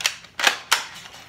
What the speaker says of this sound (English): I did get this sick gun